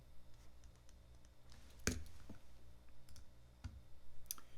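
A password keyed into a computer keyboard while setting up a Cardano NAMI wallet, a few scattered soft key clicks with one sharper tap, close but quiet over low room noise.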